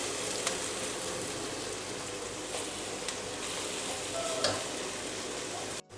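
Chicken sizzles steadily in a frying pan for a spring chicken macaroni dish, a continuous close hiss broken by a few faint clinks of a utensil, with no one speaking.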